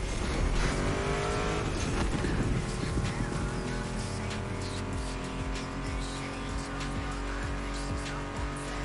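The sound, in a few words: Ford Mustang GT muscle car engine in video game The Crew Motorfest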